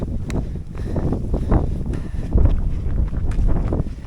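Strong, cold wind buffets the microphone on a mountain plateau at Sumaklı Yaylası, Kahramanmaraş, Turkey, with a constant low rumble and gusty roars, loud and close, with no voices.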